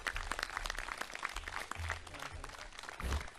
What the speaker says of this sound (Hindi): जोरदार ताली बजा दो भाई इस बालक के लिए।